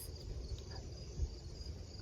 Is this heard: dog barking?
no